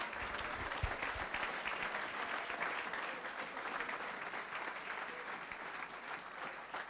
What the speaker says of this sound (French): Say to the person next to you, give a good hand.